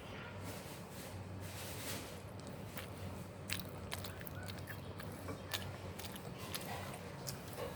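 Someone bites into an egg drop sandwich and chews close to the mic, soft wet crunches and mouth sounds recurring through a faint background hiss.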